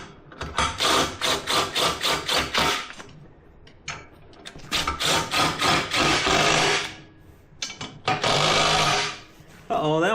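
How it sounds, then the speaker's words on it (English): A wrench tightens bolts on a Chinese mini skid steer, giving close, loud runs of rapid rhythmic buzzing bursts separated by short pauses, with no other sound competing. "let me get a wrench to tighten those up faster"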